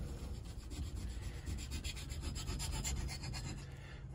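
A kitchen knife blade scraped across the unglazed ceramic ring of a coffee mug, giving a steady, close gritty rubbing with repeated strokes and no talk.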